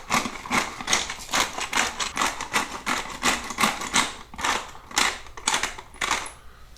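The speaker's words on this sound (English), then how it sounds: "Now come in, do the same with the black pepper. I like a nice coarse grind on there." A pepper grinder cranks out a coarse grind of black pepper onto a tri-tip roast, giving a steady run of close, rhythmic crunchy rasping bursts with no talking.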